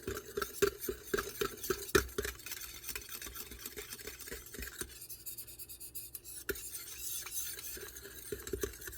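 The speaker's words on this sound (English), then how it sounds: "Give it a good mix." A homemade nourishing night cream is stirred in a small container, with quick rhythmic scraping and light tapping of the mixing tool against the sides, close up and fairly soft, with no voices.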